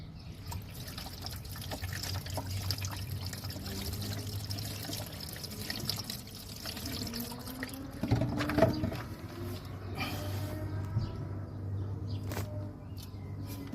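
Washer fluid poured into the windscreen-washer reservoir of a 2007 Renault Modus, a steady close trickle and splash of liquid filling the tank, with a brief louder gurgle midway and no talk.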